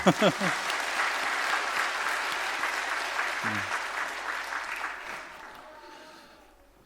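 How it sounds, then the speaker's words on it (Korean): Congregation applauding in a church service for the children's department students and teachers, a steady dense clapping that starts abruptly, holds for several seconds and fades out, with a voice heard briefly partway through. "다시금 박수로"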